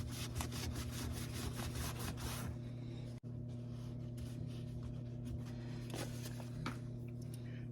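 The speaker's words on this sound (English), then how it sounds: "so now I'm going to hit this thing with some sandpaper." Sandpaper rubbed over a rubber washing machine door gasket, rapid rhythmic scratchy strokes close by that continue steadily, broken by one brief pause.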